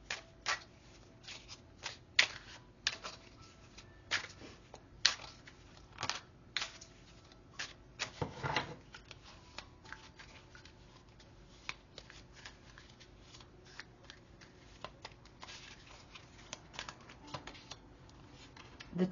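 Tarot cards being shuffled during a reading, with a series of quiet, close riffling and flicking bursts at irregular intervals and one longer shuffle in the middle, with no talking.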